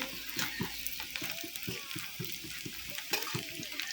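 Chicken pakoras frying in hot oil, a steady close sizzle with bursts of bubbling and occasional stirring, with a voice talking over the cooking.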